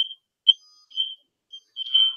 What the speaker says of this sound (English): I get tired of their alarm crap.